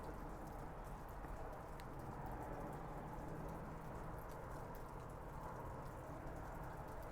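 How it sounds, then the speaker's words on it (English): Steady rain falls at night on a front porch, a soft continuous patter with faint scattered drips, alone and unchanging throughout. "Seldom get any rain here,"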